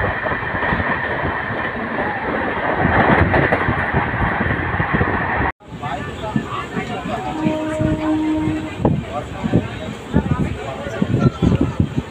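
Train rolling into Bardhaman Junction, a loud continuous rumble of wheels and carriages, then a sharp cut to a busier station soundscape with brief tonal squeals and clatter, voices audible in the background.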